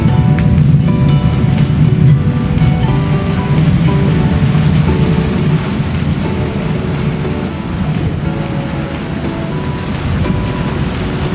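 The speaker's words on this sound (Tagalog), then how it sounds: "Umuulan na, kanya lang hindi pa bumabagsak ang malakas." Steady rain falls during a stormy wet-season spell, a dense continuous hiss and patter with low rumbling underneath, holding fairly loud and even throughout with no voices.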